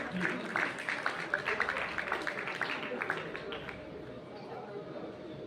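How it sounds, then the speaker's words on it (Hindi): A crowd at a community gathering claps to welcome a retired DPRO officer. Dense, steady applause fills the first few seconds, then thins and fades toward the end. "तालियां बजाकर के स्वागत कीजिए"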